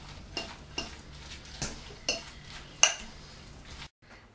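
Spoon mixing potato filling with cheese in a bowl for double baked potatoes: about six separate clinks and scrapes against the bowl at an uneven pace, close and fairly loud, ending abruptly.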